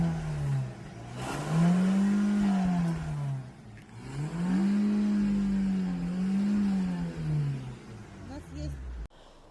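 Renault 1.6 engine with a detonation fault revved hard in two long throttle blips, pitch climbing and falling each time, loud and close, with a voice speaking over the engine.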